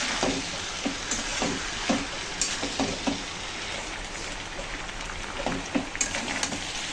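Pieces of fried jackfruit sautéed in a pan with softened potatoes and soybeans, a soft steady sizzle broken by rhythmic scraping and clinking stir strokes, close and without voices.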